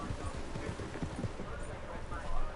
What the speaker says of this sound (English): someone's riding off on a horse